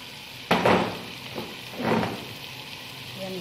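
A whole chicken drops into a hot pan with tomato and green pepper, bursting into a loud sizzle that fades, followed by a second swell of frying as it is stirred, close and without talk.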